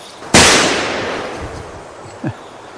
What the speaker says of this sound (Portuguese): Esses tiros, eles estão chegando.